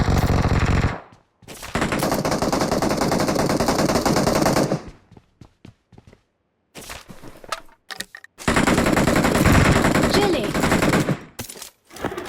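Loud automatic gunfire from the game PUBG Mobile as a knocked enemy is finished off, in several rapid bursts split by brief pauses, with quieter clicks and handling sounds between them.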